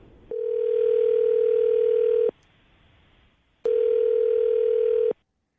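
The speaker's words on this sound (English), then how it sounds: "I'm going to dial her phone number right now" Two long, steady electronic tones ring out on a phone line, separated by a pause, like a call connecting and ringing through.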